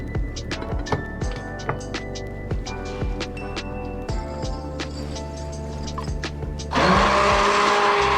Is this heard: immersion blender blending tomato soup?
yes